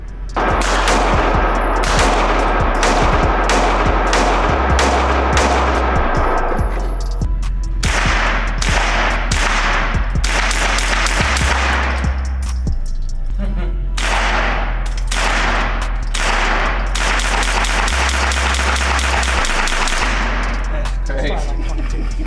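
Rapid, loud gunfire from an HK firearm at the Range 517 shooting range: dense runs of sharp reports, with repeated fast strings of shots broken by short gaps across the whole span.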